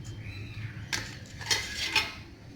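A metal lid set down over a pan while egg masala appalam cooks, giving a few light clinks and clatters spaced about half a second apart over a quiet kitchen background.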